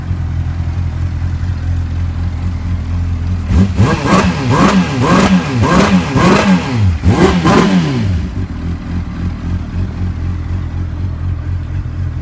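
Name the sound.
2003 Honda CBR600RR motorcycle engine idling and revving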